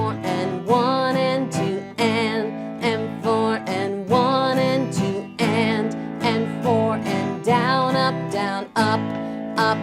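Acoustic guitar strumming the chord pattern of a song: loud, close down-and-up strums in a steady syncopated rhythm, with chord changes between bursts and no talking.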